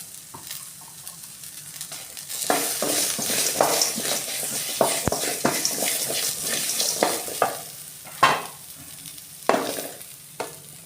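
Chopped ginger and garlic sauté in a pan with a steady sizzle, broken by irregular scrapes and clacks of a stirring spoon that grow louder and sharper midway through. No talking.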